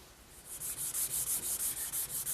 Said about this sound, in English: I've sanded the entire case with some 320 grit wet dry sandpaper.